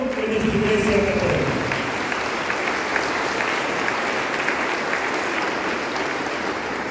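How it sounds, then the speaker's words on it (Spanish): A Catholic church congregation applauds new members at a baptism in Quito, steady sustained clapping that fills the hall. A voice or note briefly sounds at the start. "a quienes recibimos con un fuerte aplauso en nuestra iglesia católica."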